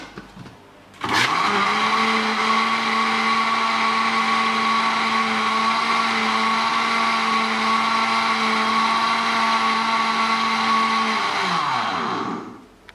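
A kitchen blender grinds milk for a béchamel sauce, starting abruptly and running at a loud, steady whine for about ten seconds before spinning down.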